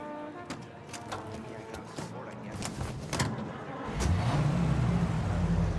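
A car is driven in Mafia: Definitive Edition, its engine humming low and steady under faint clicks and knocks, then swelling into a louder, fuller drone as it pulls away.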